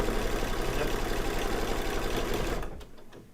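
An embroidery machine stitches a fall-themed wall hanging, a fast steady mechanical chatter that runs evenly and then stops near the end, leaving faint quiet; no voices over it.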